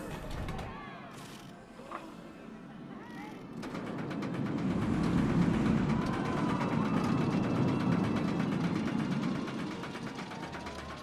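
Steady mechanical clicking of a roller coaster lift chain in a park-building game, rising through the middle of the stretch over a layered ambient park bed, with a possible faint voice.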